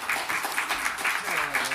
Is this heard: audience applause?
yes